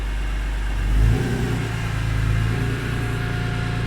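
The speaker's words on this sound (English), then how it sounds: "The tires spin up. Traction control is tweaking." A BMW E46 M3 with an S54 engine pulls away hard, its engine note swelling to a peak and then holding a loud, steady drone as the tires spin.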